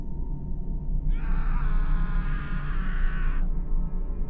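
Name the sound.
distant screaming from a neighbour's house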